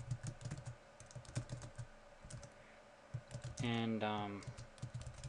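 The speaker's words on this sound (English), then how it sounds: "So you can type your message" Keys tapped on a computer keyboard while typing a short tweet, a run of quick, light clicks near the start, then a brief spoken word and a voiced tone over the keystrokes.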